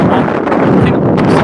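Strong wind buffets a microphone outdoors in the Chicago area, a loud, continuous roar with gusty rumbling and no pauses.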